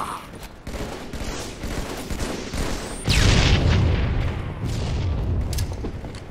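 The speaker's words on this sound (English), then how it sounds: "Some good grenades" Rapid bursts of grenade explosions and gunfire from a video game match, loud and near, with a heavier booming blast midway, continuing densely throughout.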